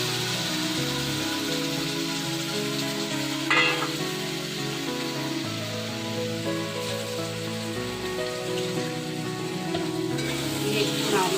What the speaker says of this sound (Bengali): ভেজে নেব মশলার সাথে ভালো করে মাছগুলোকে